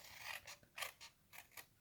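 Scissors cutting cardboard for a glue-free triangular box: six or seven short, crisp snips in an uneven rhythm, close and quiet, with no talk.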